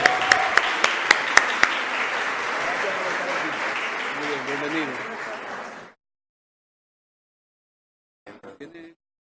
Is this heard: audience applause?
yes